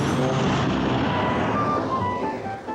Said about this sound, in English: She fastened her seatbelt, and the plane was ready to take off.